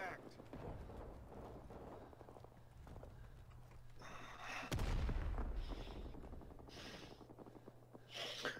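Machine gun fire in the Vietnam War shooter Rising Storm 2: Vietnam, rapid rattling bursts and heavy booming explosions in the game's battle soundscape, a loud blast midway followed by continued firing, with a player talking over it.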